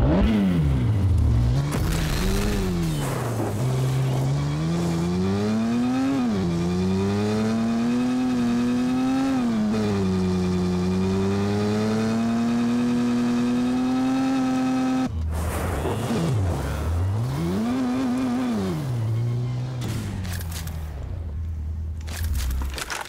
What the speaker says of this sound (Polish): Dobra, weźmy sobie motocykl.